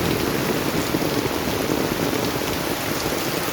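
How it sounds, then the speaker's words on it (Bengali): Heavy rain pours down on a waterlogged street in a steady, dense hiss, loud and constant throughout with no other sounds. "এত জোর বৃষ্টি হচ্ছে, কত জোর বৃষ্টি হচ্ছে।"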